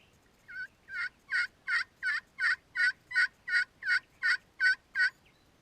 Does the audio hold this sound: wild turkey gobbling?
yes